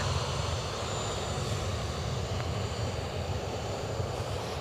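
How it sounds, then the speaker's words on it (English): A United Airlines jet throttles up for takeoff at Edinburgh Airport, its engines giving a loud, steady low roar that holds alone without talk. "United Airlines shortly to hit the throttle for departure to Washington"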